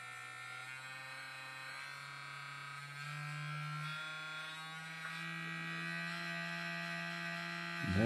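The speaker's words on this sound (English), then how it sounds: "I will just try it with the motor turning anti-clockwise." A small vibrating motor powered by a LiPo battery drives a model boat. It gives a thin, buzzing electric hum whose pitch steps up and down, and it stays fairly faint and close.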